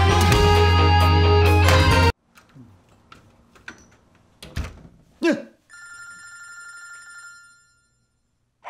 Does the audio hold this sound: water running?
no